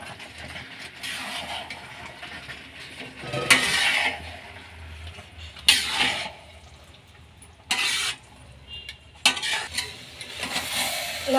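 Cabbage Manchurian mixture stirred in a pan, a spoon scraping and clattering against the metal in several loud bursts over a soft simmering bubble, with no voices.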